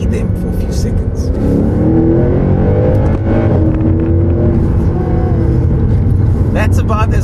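A Mercedes-AMG Black Series sports car at full throttle, its engine roaring steadily and building as it accelerates, loud and close, with someone talking over it.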